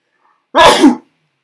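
A single sharp human sneeze bursts out close and loud, lasting under half a second, with silence before and after.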